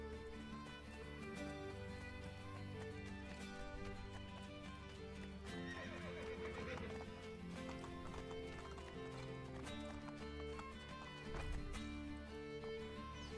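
Horse hooves clip-clopping steadily with occasional whinnies in Assassin's Creed Brotherhood video game, over a continuous bed of music, loud and close throughout.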